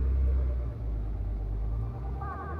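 Jeep Rubicon engine given gas on an off-road trail, a low rumbling idle swelling into a brief throttle rise, heard from inside the vehicle.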